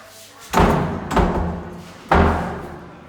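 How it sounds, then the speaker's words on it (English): A carpenter works on a bathroom door, landing three heavy, close thuds in an uneven rhythm, each one ringing briefly before fading. "So I have the carpenter fixing the door."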